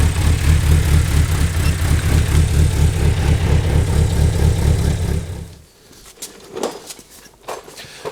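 Toyota 2.7L 1AR-FE engine swapped into an MR2 and run on an Elite 1500 ECU, idling loud and steady with a deep low rumble for about five seconds before cutting off, leaving faint clicks and shuffling.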